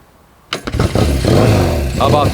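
A 1970 Norton Commando 750R motorcycle fitted with Dunstall equipment catches on the first kick. It fires up with a burst and settles into a loud, steady idle close by, with a voice over the engine.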